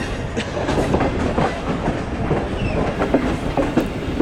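The Allama Iqbal Express, running from Sialkot toward Lahore, crosses from a loop line onto the main line with a continuous rumble and rhythmic clickety-clack of wheels over rail joints, heard close and steady throughout.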